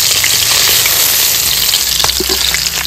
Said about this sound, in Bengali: বেশি ভাজবো না, একটু হালকা ভাজা দিয়ে নিয়েছি,